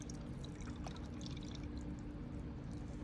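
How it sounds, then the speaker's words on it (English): Water pours steadily into a container being filled, a continuous soft rushing stream at low level that runs unbroken from start to finish. "And while he's filling that up with water,"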